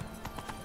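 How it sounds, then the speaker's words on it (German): A horse being ridden in The Witcher 3 video game, with three quick, soft hoof clops in an even trotting rhythm, faint and brief. "jetzt reiten wir erstmal schnurstracks in Richtung Philippa Eilharts Versteck"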